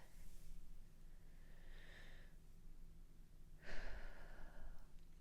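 Two slow, soft breaths, a long inhale and exhale around the two-second mark and a deeper one near four seconds, heard close and quiet against a faint hiss.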